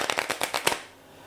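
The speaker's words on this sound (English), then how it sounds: "casinos tend to always do what's known as a riffle shuffle" Playing cards riffle shuffled up close, a rapid run of crisp flutters and clicks for under a second before stopping, leaving quiet.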